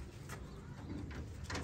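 White Kaldom pigeons, a rare breed kept in a home loft, coo in a few soft, low, throaty pulses close by, with faint background hum.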